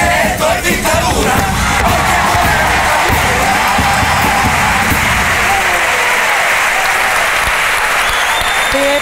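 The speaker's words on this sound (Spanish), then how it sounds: "Con los aplausos del gallinero hasta el patio butaca, el pozo" A packed theatre audience at a Cádiz carnival contest bursts into loud, sustained applause and cheering for a chirigota pasodoble, with dense clapping and yells filling the hall throughout.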